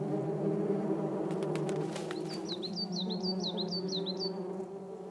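A low, steady hornet buzz drones throughout, joined midway by a quick series of high, chirping bird calls.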